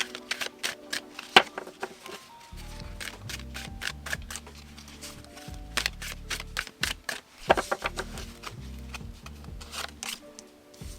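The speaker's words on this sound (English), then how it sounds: "I have to have a little shuffle and a little play" Crisp, rapid riffling clicks of tarot cards being shuffled, in repeated bursts with short pauses, close and fairly quiet, with no talking.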